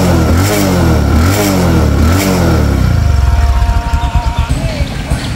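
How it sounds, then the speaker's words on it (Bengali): A Bajaj Discover 125cc motorcycle, a 2024 model in new condition, is started and revved, rising and falling in a few loud, close bursts before settling into a steady, pulsing idle. "এখন আমি বাইকটা আপনাদেরকে স্টার্ট করে সাউন্ড কন্ডিশন দেখো"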